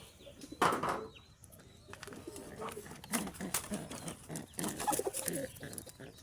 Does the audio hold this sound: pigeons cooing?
yes